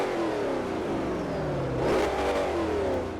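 A Ford GT500 engine in the Forza Horizon racing game revs hard and fast, climbing steeply in pitch and bouncing near the limiter, loud and continuous with a slight swell near the end.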